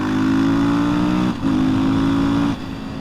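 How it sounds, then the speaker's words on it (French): A motorcycle engine revs loudly and close by, the steady roar dipping briefly twice, with nobody speaking. "Ah, ça pétouille cette moto, ça m'excite."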